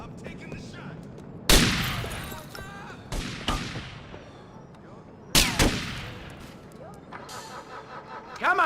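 Sharp, loud gunshots from GTA Vice City Nextgen Edition: a single crack, a short pair a little later, then another heavy burst with echoing tails and scattered smaller shots. Voices talk underneath.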